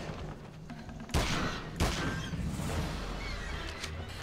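Pistol gunfire in the King Kong video game, two sharp, loud shots about a second apart cutting through quieter game ambience, followed by a lingering low rumble.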